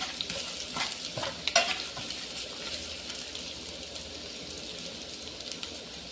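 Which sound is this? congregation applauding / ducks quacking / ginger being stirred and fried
ginger being stirred and fried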